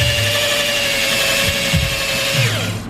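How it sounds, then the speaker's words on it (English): Hone tool spinning inside SR20DET engine cylinders, a loud steady whirring drill-like whine with a lower hum that shifts in pitch as the tool moves, close and continuous without talk. "giving the cylinders a very, very light hone with some magnificent tool"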